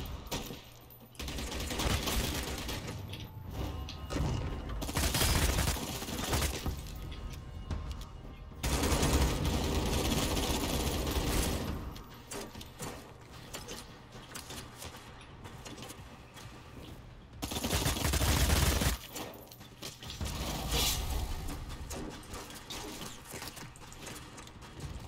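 Sustained bursts of rapid gunfire in the vampire battle-royale game Bloodhunt, loud and dense, with heavier volleys surging around the middle and again near the end, no talk.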